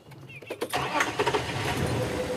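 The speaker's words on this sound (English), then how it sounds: "me get my car started first," A car engine cranks and catches at dawn during a Sabi Sand safari drive, with a few quick starter bursts before settling into a steady, fairly loud running rumble up close.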